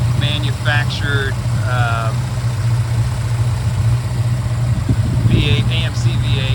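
A 1989 Jeep Grand Wagoneer's remanufactured AMC 5.9 liter V8 with Holley Terminator fuel injection idles with a steady low rumble, close by, while a person speaks over it.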